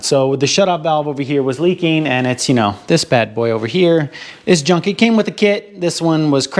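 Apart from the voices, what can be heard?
None of the usual background noises is heard.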